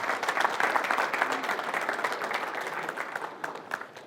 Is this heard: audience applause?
yes